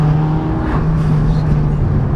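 A Mercedes CLA45 AMG engine runs in sport mode with its exhaust valves open, a loud, close, deep gurgling drone held steady throughout.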